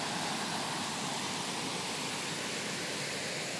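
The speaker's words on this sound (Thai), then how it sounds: "น้ำตกสะอาด" A waterfall pours in a constant, even hiss of rushing water, moderately faint and unchanging throughout, with no one speaking.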